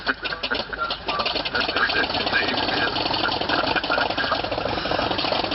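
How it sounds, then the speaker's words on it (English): A Harvard trainer aircraft's radial piston engine revs with a rough, rhythmic chugging that rises in intensity, steady and fairly close, with no voices, at an air show. "That distinctive sound of the Harvards. Could only be a Harvard winding itself up"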